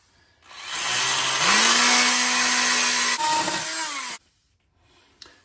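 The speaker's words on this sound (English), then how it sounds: "I typically just use my multi-tool here, and then I've got a metal blade attachment for that I'll use to actually cut that down." An oscillating multi-tool fitted with a metal blade cuts down a toilet bolt with a loud, steady, high-pitched buzzing whine that lasts about four seconds. The pitch shifts as the blade bites, and a single faint tap follows after it stops.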